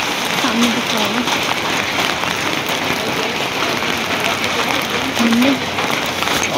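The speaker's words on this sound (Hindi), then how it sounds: "बारिश हो रही है" Steady rain falls around the Badrinath temple in the Himalayas, a dense and loud hiss that runs through the whole clip with no break.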